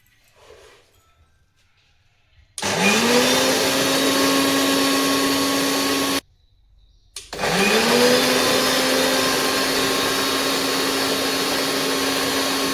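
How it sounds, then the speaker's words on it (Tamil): A kitchen mixer grinder pulverises crisp, sun-dried herb leaves into powder for a natural hair-growth remedy. It runs in two loud, steady whirring bursts, about four and five seconds long, separated by a brief stop and preceded by a quiet lead-in. "இதை நம்ம மிக்சியில் போட்டு பொடி பண்ணிக்கலாம்"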